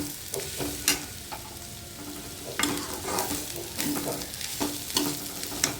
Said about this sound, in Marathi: आता हे सगळं मिक्स करून घेऊया एक दोन मिनटं आपण परतून घेऊया कांद्यासोबत